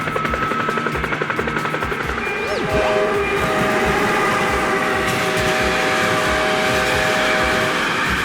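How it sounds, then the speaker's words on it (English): A very fast high-speed train rushes past with a loud, steady roar and sustained horn-like tones that begin partway through, after a few seconds of rhythmic chopping pulses like helicopter blades. "High-speed train, a very fast train that zooms like lightning."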